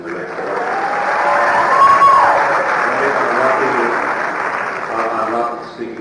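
Debate audience clapping together in a hall, a steady, dense wash of applause lasting about six seconds that swells slightly in the middle and fades toward the end.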